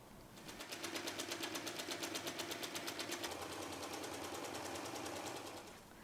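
A sewing machine runs a fast, even stitch straight across tote bag fabric, a close, steady rattling buzz that runs about five seconds before it stops.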